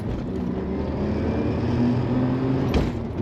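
A 1992 Lotus Carlton accelerates in first gear, its engine droning steadily from inside the car as the pitch climbs gradually, with no talk over it.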